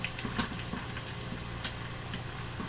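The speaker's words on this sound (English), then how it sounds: "you put them in there and you let them deep fry" Crab cake eggrolls deep fry in hot oil with a steady, soft sizzle and crackle, punctuated by a few small pops.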